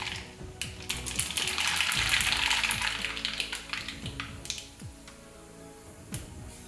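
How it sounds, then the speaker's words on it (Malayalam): Mustard seeds popping in hot oil, a dense run of sharp crackles and snaps that peaks early and thins into scattered pops, close and fairly loud with no talk. "കടുക് പൊട്ടിക്കഴിഞ്ഞു"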